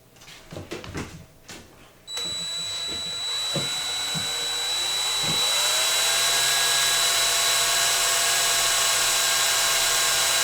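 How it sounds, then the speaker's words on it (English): A small power drill with a small bit bores holes into the metal case of a CB radio base station, whining steadily at high speed after a few handling clicks and knocks. "so I'm going to start by using a really small bit here and just drilling these small holes here"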